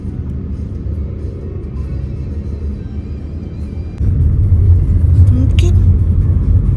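A wedding car rumbles past close by on a road, its engine and tyre noise steady, then swelling louder toward the end.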